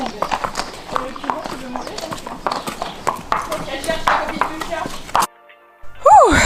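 Horse hooves clip-clopping steadily while a rider warms up on horseback, a rhythmic run of close, distinct hoof strikes with some talk and movement mixed in, ending in a short quiet gap and a brief squeak.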